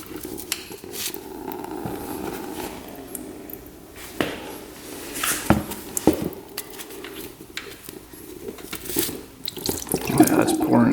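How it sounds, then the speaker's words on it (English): Coolant draining and pouring out of a 2-stroke dirt bike engine, a steady liquid trickle and splash close by, with someone talking over it throughout. "I see something coming out. It's gonna shoot out of here. So there's definitely some coolant in there still."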